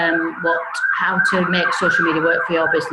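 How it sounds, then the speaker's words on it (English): Emergency vehicle siren wailing on a main street, loud and continuous with rising and falling tones throughout, while a person keeps talking over it. "Apologies for the siren in the background."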